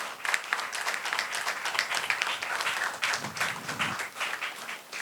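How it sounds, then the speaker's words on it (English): Audience at a school Mock UN event applauding to welcome a guest speaker, a dense, continuous round of clapping from many hands with little talk. "Please join me in welcoming him with a big round of applause."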